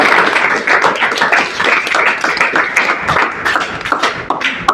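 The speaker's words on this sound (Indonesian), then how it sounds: "Kita beri tepuk tangan dulu." Classroom applause from a group of students: dense, steady clapping that runs the whole time, loud and close, with no talk over it.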